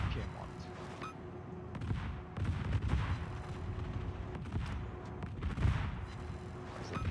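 Warship guns fire repeatedly at the Piedmont in a naval video game, with booming shots recurring through a dense, rumbling battle mix while a voice talks over it.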